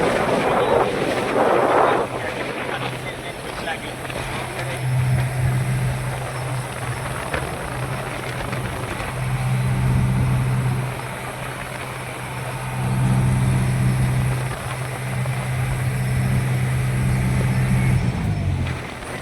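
A passenger boat's engine drones steadily at sea on the crossing to Shiyal Bet island, with low pulsing hum and heavy wind buffeting the microphone throughout.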